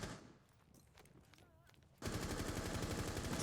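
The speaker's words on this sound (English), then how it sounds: "Another gunfight ensues." A Rainbow Six Siege gunfight during a competitive esports match: quiet scattered shots and faint movement at first, then a sudden loud burst of sustained automatic fire that continues to the end, with a commentator talking over it.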